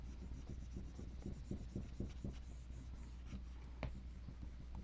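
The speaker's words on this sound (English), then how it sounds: "you just rub. Just rub it. Your transfer is going to release from the paper on the front." A tool rubs an image transfer onto paper for mixed media art, making soft, rhythmic scratchy strokes in quick repeated passes that are close and quiet, with one slightly sharper scrape near the end.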